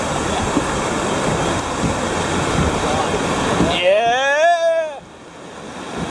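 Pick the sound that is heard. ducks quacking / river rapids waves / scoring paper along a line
river rapids waves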